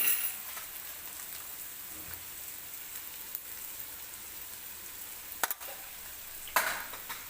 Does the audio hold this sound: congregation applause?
no